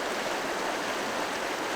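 A flowing river rushes steadily and loudly close by, an even continuous wash of water with no voices.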